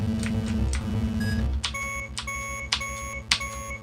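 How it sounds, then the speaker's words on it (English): A chiptune bus horn in a Pico-8 video game gives a run of bright, synthetic electronic honks and beeps over a buzzy low game soundtrack, repeating in short bursts with no voices. "That's the horn."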